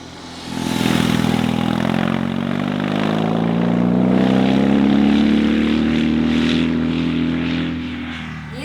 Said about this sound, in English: at higher RPMs you can really hear the engine, the great sound of this engine